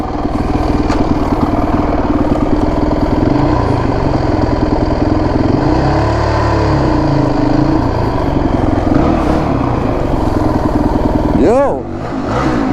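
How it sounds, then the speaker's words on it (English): Honda CRF450X dirt bike doing a rear tire burnout, the engine droning loud and close with a steady high rev and wavering pitch, then a sharp rev swell and drop near the end. "Maybe we'll just do a burnout."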